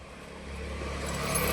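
A car on the road approaches and grows steadily louder, its low engine rumble and tyre noise building toward the end as it comes near.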